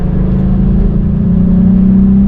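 A VW Up! GTI hatchback pulls hard on the road, its engine revving with a rising, steady whirring note over constant low rumble, loud and close from inside the cabin, no speech.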